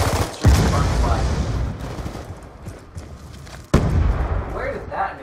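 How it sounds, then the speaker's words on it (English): Gunfire rattles through a Capture the Flag match on the Standoff map in a LAN video game, with a sharp grenade blast near the start and another loud burst near the end, under excited talk from players. "Where did that nade come from?"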